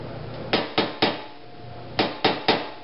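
Metal being hammered out on a 1945 Farmall BN tractor: six sharp, close ringing blows, three in quick succession, a pause, then three more at an even pace.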